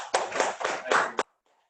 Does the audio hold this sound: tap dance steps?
no